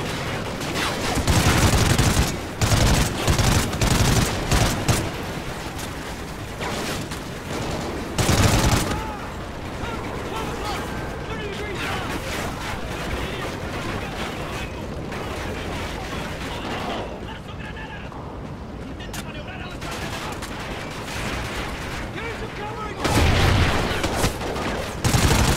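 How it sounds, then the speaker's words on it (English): Call of Duty Ghosts firefight with rocket launcher blasts and rapid gunfire, loud bursts at the start and end around steady battle noise, with voices talking over it. "Somebody really shooting us with a rocket launcher."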